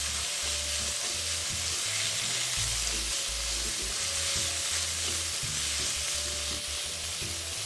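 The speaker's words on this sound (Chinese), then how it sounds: "一直拌炒至肉丝微微转白后，再加入3大匙自制黑胡椒酱。" Pork strips stir-fried in a wok with homemade black pepper sauce, a loud steady sizzle and crackle throughout, with the occasional scrape and knock of stirring, and no talking.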